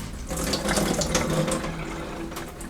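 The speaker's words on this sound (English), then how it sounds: "I'm going to drain the liquid out of this can." Liquid from a can of green beans drains into a sink, a steady close splashing pour of water that runs without a break for under three seconds.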